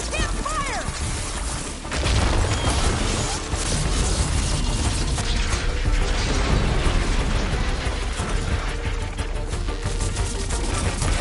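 Robot machine creature in the video game Horizon Forbidden West moving and clanking close by, with dense mechanical rattles, crashes and bursts in a continuous loud battle din.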